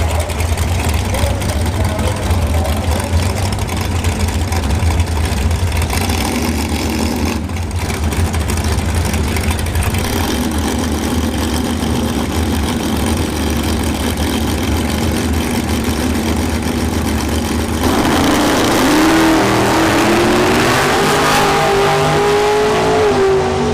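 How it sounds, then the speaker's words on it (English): A Plymouth Cuda and a dragster at a bracket drag race track, engines roaring loud and steady, then revving up sharply toward the end as they launch, with an announcer talking over the noise. "We have Vic Burns here in the left lane, dialing in at 664 in the Cuda"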